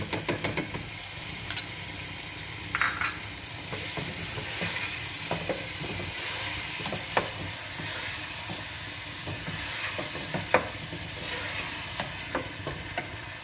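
Yogurt added to a pot of vegetarian haleem, with continuous sizzling and hissing under repeated spoon-stirring scrapes and a few sharp clinks against the pot.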